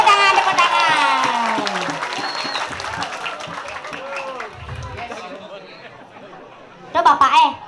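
A Balinese comedy audience at Pura Penataran Nyelati temple in Badung bursts into a short, loud round of clapping near the end, after a stretch of a performer talking and laughing with the crowd.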